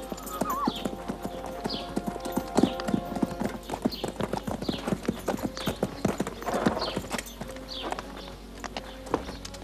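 Horse hooves clip-clop in a steady, close rhythm of sharp knocks, with faint tonal sounds like harness or distant voices behind them.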